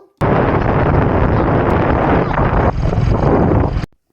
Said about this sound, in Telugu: గాలి చూడండి ఎలా వస్తుందో నా మాట కూడా వినిపించట్లేదు